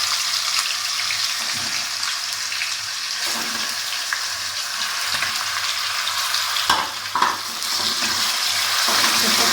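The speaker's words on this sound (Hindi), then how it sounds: "अब हम इसमें लहसुन अदरक का पेस्ट डालेंगे। चिकन डाल देंगे।" Chicken fries with garlic-ginger paste and browned onion in a pan for a dhaba-style chicken karahi, a loud, steady sizzle with occasional stirring scrapes and clatters close by.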